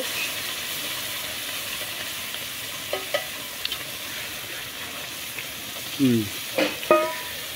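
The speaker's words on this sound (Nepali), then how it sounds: "अब यो दुध हालेपछि मजाले चलाउने हामीले" Milk being stirred into a simmering masala in a pan, giving a steady close bubbling sizzle with a few soft scraping knocks of the spoon toward the end.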